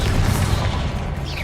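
A loud, dense boom from a Confringo blast in a magic game fills the moment with a rumbling explosive roar that fades slightly toward the end.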